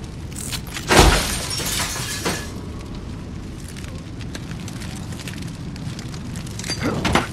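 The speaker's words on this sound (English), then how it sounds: "let's try breaking this window" Window glass shatters in the Tales from the Borderlands video game, a loud sharp crash followed by scattered tinkling debris over a rumbling game ambience.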